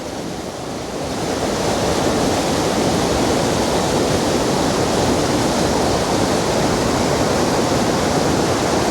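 Swollen, iced-up river water pouring beneath a drainage pipe during a flood, a dense continuous roar that swells in after the first second and holds steady and loud throughout, no voices.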